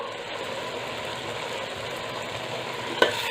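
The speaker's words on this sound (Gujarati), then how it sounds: "બધું સરસ હલાવી લઈશું।" Kathiyawadi-style undhiyu of fried vegetables with val and papdi beans, salted and stirred in a pot, giving a steady close scraping and gentle sizzle with a single sharper clink near the end.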